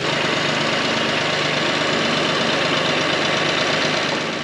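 A tractor engine idles on a farm pasture, giving a steady, unbroken mechanical rumble that stays close and even throughout, with no voices.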